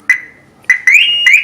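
A Maruti WagonR VXi car alarm gives three loud electronic chirps, each a bright tone that holds and then slides upward, with short gaps between them and no voices.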